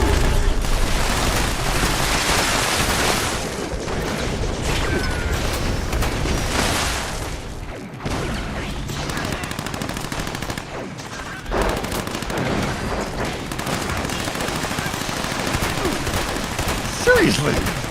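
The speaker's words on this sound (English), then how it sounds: "I'm still gonna shoot at him because they're right there. It's a shotgun." Shotgun blasts in a Bethesda video game blend into a dense, continuous barrage of loud gunfire and booming impacts that runs throughout, with no clearly separate shots.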